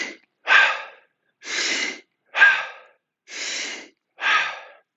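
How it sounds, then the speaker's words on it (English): Three slow cycles of breathing: a deep breath drawn in, then a relaxed, open-mouthed exhalation let go, each breath loud, close and separated by brief silences. "as deep of a breath in as you can, and then you just let the breath go"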